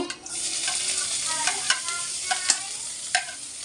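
Chopped ginger and garlic fry in a little oil in a wok, a close, steady sizzle broken by a few scraping stirs of a spatula.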